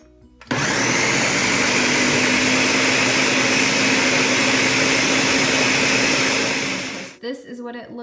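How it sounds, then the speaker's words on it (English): A blender whirs loudly for about seven seconds as it purees fruit with honey into a smoothie-like mix, starting abruptly at full power, holding a steady high-pitched roar, then winding down before a voice speaks. "put the lid on and just blend the hell out of it"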